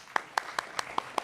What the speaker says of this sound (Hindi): मैं सेना के लिए ताली बजा रहा हूं ऐसे,